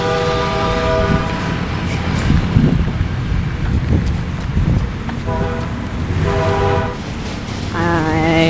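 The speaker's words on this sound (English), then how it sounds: "I hate the sound of trains." A train rumbles past close by, loud and rolling, while its horn blares in several long harmonic blasts over the clatter of the cars.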